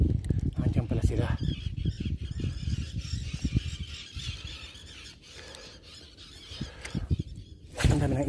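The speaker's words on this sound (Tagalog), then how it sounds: "Ang dami ng ibon." Many seabirds call together near a bridge on the Abu Dhabi shoreline, their squeals and honking cries rising over steady shore noise, with a voice talking nearby and a loud burst near the end.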